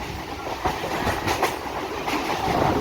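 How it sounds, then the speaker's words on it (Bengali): A local train between Tarakeswar and Howrah runs at speed, its wheels beating a steady, loud clickety-clack over the rails while the carriage rumbles and rattles throughout. "আমাদের ট্রেন কিন্তু প্রথমেই স্পিড ধরে নিয়েছে"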